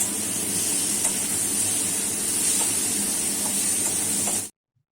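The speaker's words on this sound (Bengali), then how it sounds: "গরম হলে আমি নুন হলুদ মাখিয়ে রাখা চিংড়ি মাছগুলো ভেজে নেব।" Prawns coated in salt and turmeric fry in a hot wok, giving a loud, continuous close sizzle and hiss with faint clicks that cuts off abruptly into silence near the end.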